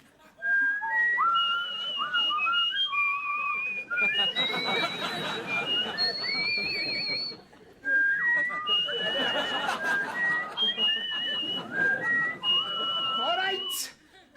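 Several people whistle rising and falling melodic notes together, two long stretches of loud whistling separated by a brief pause, with some chatter and laughter mixed in.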